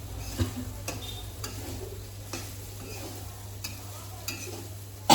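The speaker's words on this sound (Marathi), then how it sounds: "याला असं परतून वगैरे घेणार आहे मी" Sabudana khichdi being stir-fried in a pan, with a steady low sizzle and periodic scraping strokes of a spoon against the pan, ending in a louder clatter.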